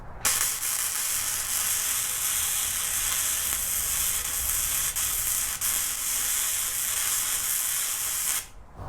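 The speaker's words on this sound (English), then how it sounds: "It's actually welding pretty darn good" Steady, loud crackling hiss of a Bun Trail welder laying a bead, close up and continuous for about eight seconds before cutting off abruptly, with no talk.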